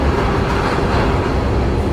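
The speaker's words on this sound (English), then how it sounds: "We finally found the train." Subway train in Garry's Mod rumbling steadily and loudly close by, a dense continuous roar with a faint rhythmic rattle and no voices.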